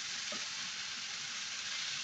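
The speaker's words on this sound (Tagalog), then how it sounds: "Haluin lang natin siya." Sambusa sauce is stirred in a pan, a dense, even sizzling hiss filling the short stretch, with faint low scraping underneath and no voices.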